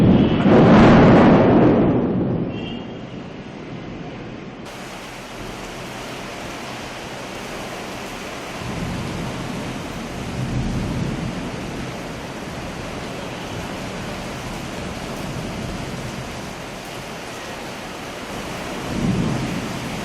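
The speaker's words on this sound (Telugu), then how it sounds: "విశాఖ నగరంలో ఉరుములు మెరుపులతో జల్లులు కురిశాయి." A deep roll of thunder rumbles loudly at the start during rain showers in Visakhapatnam city, then steady rain hisses for the rest of the time with softer distant rumbles rising and fading.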